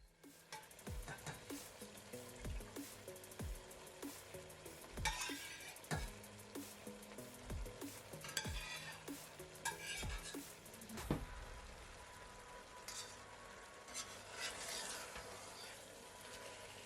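Mutton stirred into a cooking white biryani mixture in a pot, a soft steady sizzle beneath repeated scraping knocks of the spoon at an uneven, unhurried pace, close and fairly quiet.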